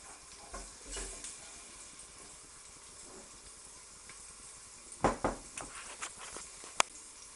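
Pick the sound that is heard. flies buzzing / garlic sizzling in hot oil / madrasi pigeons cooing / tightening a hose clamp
garlic sizzling in hot oil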